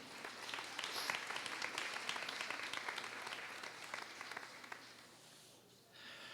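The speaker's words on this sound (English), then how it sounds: "Please join me in a round of applause in welcoming our industry guest speaker, Paul Silverton." Audience applause welcoming an industry guest speaker at a 2019 college fashion runway show, a dense, steady wash of many hands clapping that sustains for about five seconds before thinning and fading, with a brief renewed swell at the end.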